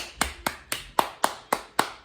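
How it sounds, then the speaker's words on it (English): Eight sharp, evenly spaced hand claps ring out close and loud in a quick steady rhythm, each a crisp isolated smack with a short decay. "So give yourself a hand clap."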